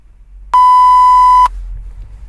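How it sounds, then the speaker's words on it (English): A pure 1000 Hz test tone generated by a Python script in a lecture setting, one steady electronic beep lasting about a second, loud and alone against near silence. "So this was a 1000 Hertz tone"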